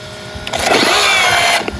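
Slipper clutch slipping on an Arrma Granite RC truck with a cheap replacement clutch, a short burst of high, whirring, grinding drivetrain noise that swells and cuts off within about a second.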